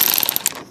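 A ratchet clicks rapidly in short bursts while backing out 7mm bolts from the wiper motor controls of a 1970-1981 Camaro, close and loud before fading out.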